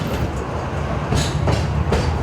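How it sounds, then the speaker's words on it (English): Train of the Cumbres & Toltec Scenic Railroad rolling along mountain tracks. A loud, steady rumble carries periodic clacks and brief bursts of noise, close throughout with no voices. "The train rolls into a long tunnel carved out of a mountain"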